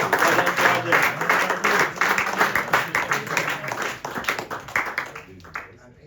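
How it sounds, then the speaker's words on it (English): Members at a cricket club awards ceremony give a round of applause, brisk close clapping from a roomful of people that fades out over several seconds, with a few voices underneath. "so give him a round of applause"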